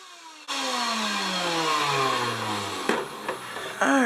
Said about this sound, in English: we're going to turn on the vacuum